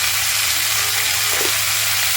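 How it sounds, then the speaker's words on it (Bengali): Drumsticks and potatoes with turmeric fry in hot oil with a steady, close hiss of sizzling, broken by a brief scrape of stirring partway through. "এখন একটু ভালো করে নাড়াচাড়া করে অল্প ভেজে নেব সাজনা আলুটা।"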